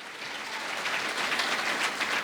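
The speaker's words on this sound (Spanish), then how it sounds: "Fuerte aplausos" A church congregation in Sucre, Bolivia, applauds with a steady, dense patter of clapping that sounds fairly distant and soft, with no talking over it.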